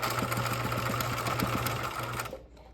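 A sewing machine stitches bias binding with a backstitch at the end, a loud, steady close-up mechanical whir that runs continuously for a couple of seconds before stopping abruptly.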